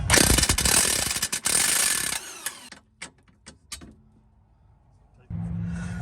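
A ratchet wrench loosens a 14 mm bolt on the suspension of a 1996–2001 Honda CR-V during a coilover install. Fast, loud ratcheting bursts up close give way to a few separate clicks and knocks, followed by a steady low hum.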